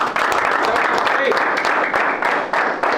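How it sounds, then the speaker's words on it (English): A crowd claps and applauds at a basketball gathering, a thick wash of many hands sustained for a few seconds, loud and near. "Clap it up."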